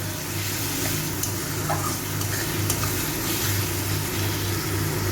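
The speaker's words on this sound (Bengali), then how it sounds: "ভালো করে একটু মিশিয়ে নেব" Banana flower curry with spices being stirred in a hot pan, a steady close sizzle with soft scraping of the spoon and a low background hum, no talking.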